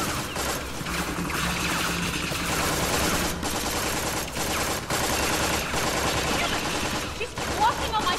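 Gunshots in the Tales from the Borderlands video game come as rapid, continuous fire with no pauses, packed into a busy, loud action scene with voices mixed in.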